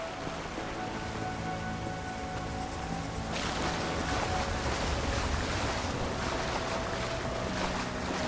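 Rushing water from a waterfall in the video game Avowed, a steady broadband roar that swells louder partway through and keeps going without a break, with no one talking.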